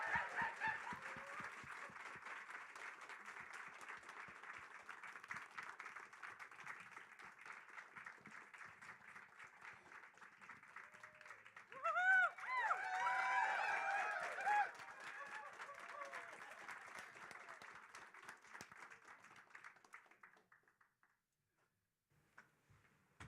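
Audience applauding as guests are welcomed to the stage, a long stretch of steady, moderately loud clapping with a brief burst of cheering midway, then fading to quiet.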